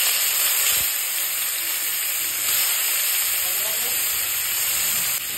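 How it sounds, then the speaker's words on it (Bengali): Small fish fry in a pan with a steady, moderate sizzle and hiss that continues throughout, close by and without a break. "তো চলো মাছগুলো ভাজা হতে থাক।"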